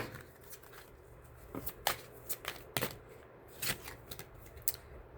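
Tarot cards being shuffled up close, with a run of soft riffling bursts and sharp flicks at an uneven pace, quiet overall and with no one talking.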